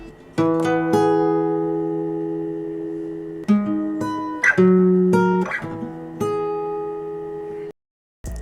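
An electric or acoustic guitar plays a melody over three chords, ringing picked notes and sustained chord tones shifting every second or so, clear and close, with a brief silence just before the end.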